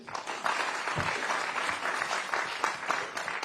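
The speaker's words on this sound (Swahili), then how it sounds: "Makofi kwa Jane" Audience applause at a Kenyan forum with people living with disabilities: steady, dense clapping from a crowd filling the whole stretch, moderately loud and continuous.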